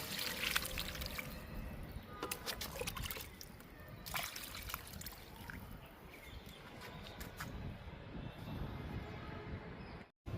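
Liquid fertilizer poured onto a garden plant, a continuous soft trickling and splashing stream lasting several seconds at close range before stopping abruptly.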